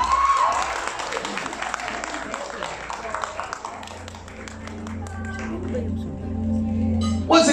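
Audience clapping at a beauty brand's launch event honoring a new ambassador, a burst of claps that thins out under an amplified voice and background music in a reverberant hall.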